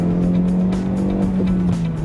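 A 2011 Honda CR-Z engine revs under acceleration, a steady close-up drone with a slightly buzzy high end that holds throughout.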